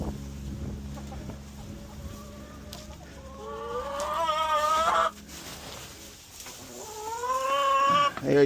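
Backyard chickens cluck and call repeatedly at close range, a rising rooster-like crow near the middle and another toward the end, over a steady low background hum.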